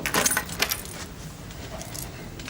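A bunch of keys jangles and clinks close by, a bright metallic rattle strongest at the start that settles into softer jingles, with no talk.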